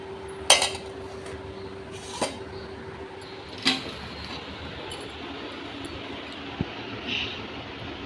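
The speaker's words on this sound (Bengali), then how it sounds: "ভাত বেড়ে দিচ্ছি" Serving rice onto a plate in a home kitchen, with a few sparse clinks of dishes and utensils spread across a quiet stretch with a low background hum.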